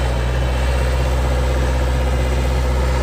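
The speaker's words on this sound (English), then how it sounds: "Run the backhoe for you." A 2002 Vermeer V5750 backhoe's diesel engine idles steadily and close by, a loud, even low rumble with no breaks or other sounds.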